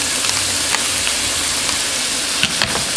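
Cooked bacon sizzles in a pan with a steady bright hiss and faint crackles, close and continuous, with a few small clicks near the end.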